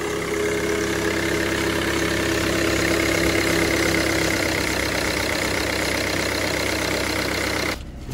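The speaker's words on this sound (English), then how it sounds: "I'm just gonna let it idle here for a couple of minutes" A Mercedes W204 car engine idling after a boost leak repair, a steady close mechanical hum with a faint even tick, running alone until it cuts off near the end.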